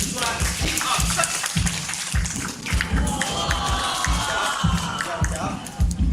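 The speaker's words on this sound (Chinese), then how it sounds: "掌声热烈一点" Audience applause and clapping after a traditional Chinese fish-producing magic trick at a live show, a steady burst of many hands with crowd noise throughout, sustained and fairly loud.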